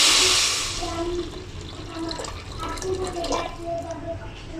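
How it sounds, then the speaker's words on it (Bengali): Hot water poured into a pot of soaked rice for a potato and chicken khichuri, opening with a loud rushing splash that quickly fades to a softer trickle and faint clinks. "সে গরম পানিটা দিয়ে দিচ্ছি"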